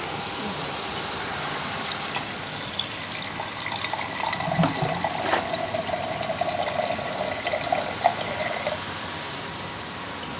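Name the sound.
water being added to cooking fish curry masala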